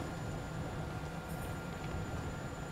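A train in the video game Warzone gives off a steady, continuous rumble with a rolling, rail-like drone that holds level throughout, with no voices over it.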